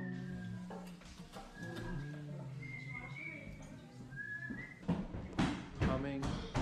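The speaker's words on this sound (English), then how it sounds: "Humming, whistling." Someone whistles a few short melodic phrases over a steady low background murmur at a Hasidic Sabbath dinner, with clattering sounds near the end.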